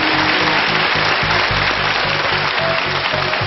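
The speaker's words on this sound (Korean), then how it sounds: "박경원 씨에게 다시 한번 큰 박수 부탁드립니다." Dense, steady applause from a lecture audience fills the whole stretch at a loud level, with a faint rhythmic low thumping underneath.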